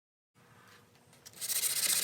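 Sanding a walnut spoon on a wood lathe gives a soft, steady rubbing hiss that starts after a moment of silence and grows louder and brighter toward the end, close and continuous with no talking.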